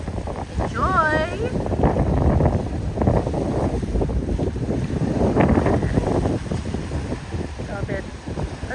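A sea breeze at West Bay, Doha, buffets the microphone in a steady, loud, rumbling rush beside the water, with a voice faintly present under the wind.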